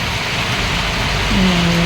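Dense, steady rain falls outside a house as a continuous loud hiss, with a brief voice-like tone near the end.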